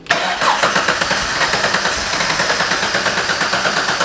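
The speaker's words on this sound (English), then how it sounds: "Let's go ahead and start it." An Exocet kit car engine cranks and catches, then settles into a steady, loud, pulsing idle with rhythmic revving close by.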